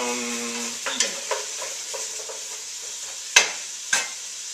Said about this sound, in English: Stir it around, get the salt in all the surface, coat all of the pieces with oil, break up the onions